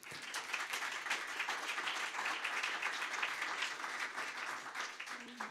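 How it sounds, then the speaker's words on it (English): A conference audience gives its four panel speakers a sustained round of applause, dense steady clapping filling the room for several seconds with no one talking. "Let's give a big round of applause to our 4 speakers here."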